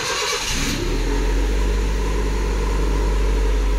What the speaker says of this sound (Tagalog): So start na natin yung sasakyan.